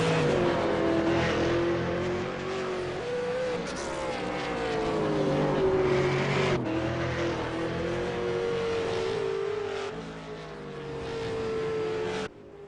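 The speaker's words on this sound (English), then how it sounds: "I'm listening to his throttle at the moment, and it's very well controlled" A V8 Supercars race car at Oran Park, its engine a loud, continuous high-pitched howl shifting pitch through throttle changes and gearshifts as it runs on track.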